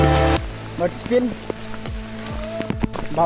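Heavy monsoon rain on a trek to Ratangad Fort, with water splashing and pattering steadily around a walker, while a voice talks over it and scattered close knocks and drips stand out.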